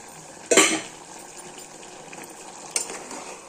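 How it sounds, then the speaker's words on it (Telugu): Onions soften in oil for a mutton curry with cashews, giving a quiet, steady sizzle under two sharp clanks of a spoon against the pan, one near the start and one near the end. "ఒక టెన్ మినిట్స్ నూనెలో మగ్గనివ్వాలి"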